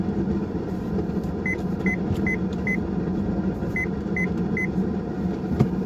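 A series of short electronic beeps from a vehicle camera warning of a small stone obstruction, two groups of evenly spaced tones, sounds over a steady vehicle engine rumble.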